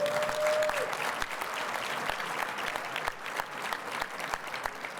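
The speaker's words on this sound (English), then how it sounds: "please clap." An audience at a Shark Tank-style pitch event claps steadily for a startup, a continuous, moderately loud patter of many hands that holds for several seconds.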